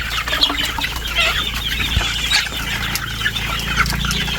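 Chickens cluck steadily at close range while feeding, with a continuous busy chatter and scattered sharper calls and no talking.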